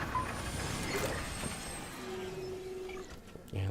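A fabricator machine in the video game Prey cranks out shotgun shells with mechanical clanks, ratcheting whirs and a hissing, creaking hum, ending in a sharp clunk.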